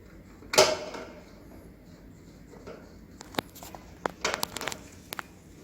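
A plastic sink drain trap is tightened by hand, with a sharp scrape near the start, then a run of small clicks, creaks and thread squeaks, close and fairly faint.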